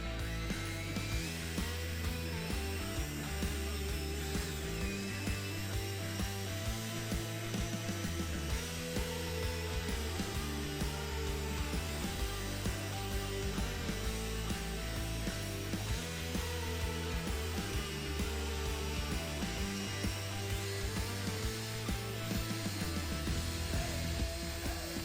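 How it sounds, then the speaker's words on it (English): A cordless drill with a polishing pad buffs a yellowed plastic car headlight during restoration, a continuous close whirring motor with slight pitch wavering, steady throughout with no talking. "My hand position on this cordless drill is up here."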